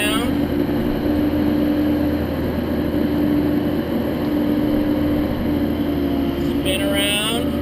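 A mini excavator's engine drones steadily and loudly throughout as the machine climbs over a small 4-inch pipe, a constant low hum with a strong tonal whine, while a voice talks over it.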